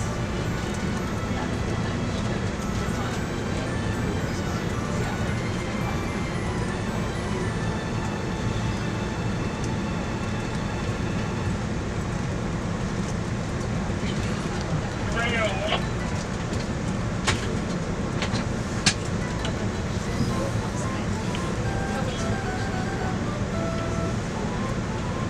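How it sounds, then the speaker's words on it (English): Amtrak train departing Washington Union Station, heard from aboard as a steady low rumble of wheels and cabin noise with faint rattles and brief squeals, continuous throughout. "As we depart Washington Union Station, an Acela Express train using one of the original sets arrives at Union Station."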